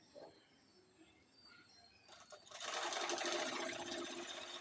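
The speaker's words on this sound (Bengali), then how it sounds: "এইভাবে পুরা রাউন্ডে আমি রাবার আর কাপড় সেলাই করে নিব।" Sewing machine stitches elastic onto fabric for a baby's pant waistband; after quiet room noise, the machine starts up and runs in a close, steady rapid whir until the end.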